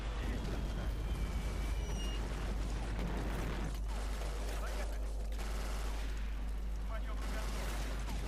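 Gunfire and explosions rumble on in a Sudden Strike battle, with dense bursts of shots over a low constant drone that stay quiet and fairly distant.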